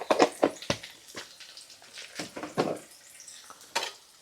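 Tempering seeds crackle and pop in hot oil in a home kitchen while onions are readied for an amaranth leaf stir-fry, giving short irregular sharp bursts and sizzles close by with no talk.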